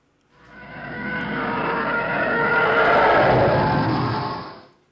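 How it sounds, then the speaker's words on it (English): The Howie scream stock effect, sped up and pitch-shifted into a TIE fighter fly-by, gives a loud, rough, roaring howl that swells in, holds for several seconds and fades away, with no voices. "because if you speed it up and pitch the shift a little,"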